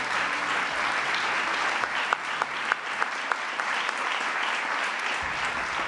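An audience at an official ceremony honoring awardees breaks into sustained applause, a thick, even wash of clapping with a few louder individual claps standing out near the middle.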